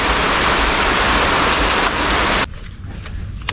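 Heavy rain hisses loudly and steadily, then cuts off abruptly partway through, leaving a quieter background.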